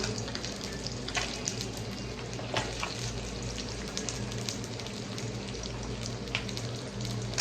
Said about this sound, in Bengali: মাছ ভাজা হলে আমি চলে আসছি